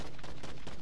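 Video game gunfire rattles in a quick cluster of several close, loud shots packed into under a second, sharp repeated bursts with no talking over them.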